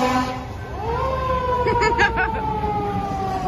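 Fire truck siren on Main Street USA at the Magic Kingdom, a rising then steady wailing tone with a horn-like pulsing burst midway, loud and close over crowd murmur.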